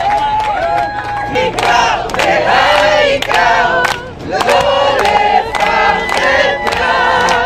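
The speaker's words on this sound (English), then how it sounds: "Each time a former hostage arrived at the square, the crowd cheered." A large crowd gathered in a public square cheers loudly and continuously, with shouts and whistles rising in repeated surges over a dense wall of voices.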